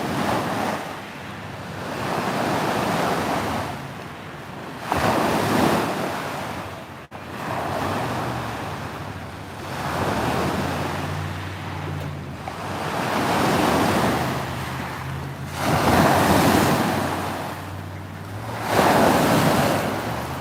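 Strong wind buffets the microphone while waves on Lake Wakatipu, Queenstown, New Zealand, surge in and recede in slow, repeating swells, loud and close, with no one talking.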